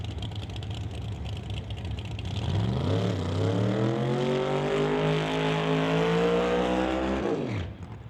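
A blue Camaro drag car does a burnout at a Canada West Doorslammers drag race, its engine rising into a loud, steady, sustained roar for several seconds before cutting off abruptly.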